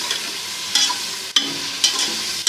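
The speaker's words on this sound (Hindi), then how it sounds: "लहसुन अदरक के पेस्ट को भी तकरीबन एक मिनट हम फ्राई करेंगे।" Garlic and ginger paste frying in hot oil for a biryani, with a steady sizzle and a few sharp spoon scrapes against the pan at irregular intervals, close and clear with no talking.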